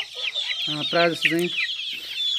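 Young local red roosters cluck in a short burst of three harsh calls close by, with high chirping from other birds around and someone speaking briefly.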